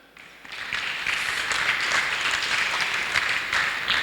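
A church congregation breaks into loud, dense applause acclaiming the Lord, swelling quickly after a brief quiet start and holding steady as a crowd of many hands clapping together.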